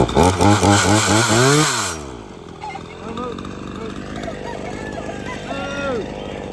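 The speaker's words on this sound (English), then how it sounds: "He was just watching his chainsaw, ready for it to crank up so he can try to bite it." A chainsaw roars loud and close for about two seconds, its pitch rising as it revs, then cuts out, leaving quieter background noise with people talking.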